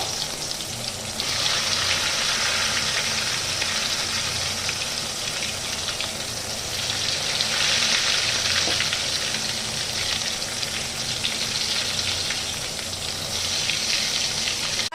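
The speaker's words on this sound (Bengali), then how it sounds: "এবার আমি আস্তে আস্তে বেগুনগুলোকে এই গরম তেলের মধ্যে দিয়ে দেব" Eggplant slices frying in hot oil for an Odisha-style curd eggplant dish, a loud continuous hiss and crackle that holds steady throughout, close and alone.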